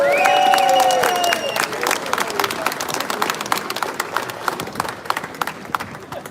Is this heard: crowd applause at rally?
yes